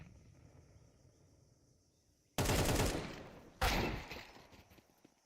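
Two loud, abrupt revolver shots in a competitive Counter-Strike style shooter match, about a second apart, each with a ringing decay, breaking out of a quiet ambient background.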